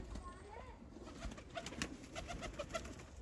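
Sialkoti pigeons coo softly in a loft, low repeated cooing calls and some wing and movement noise at moderate distance, with faint background talk.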